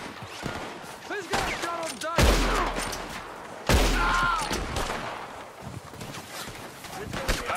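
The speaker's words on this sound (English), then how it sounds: "I love the sound of, like, the bullets whizzing past." Gunfight in the video game Red Dead Redemption 2, with bullets whizzing past and several heavy gunshots ringing out amid scattered game effects, while someone talks over it.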